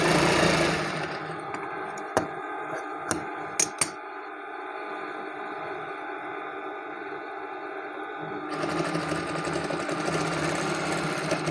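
Sewing machine stitching a kameez with piping: steady mechanical whirring runs the full length, dropping briefly to a quieter hum with a few sharp clicks midway before the fast stitching resumes, close and loud.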